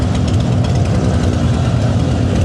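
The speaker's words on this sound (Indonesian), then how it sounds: "motor chopper yang basicnya mesinnya itu dari Harley Davidson Sportster Evo 1200" A custom chopper motorcycle powered by a Harley Davidson Sportster Evo 1200 engine idles close by, a steady, loud, low rumbling throb with uneven loping pulses and no voices over it.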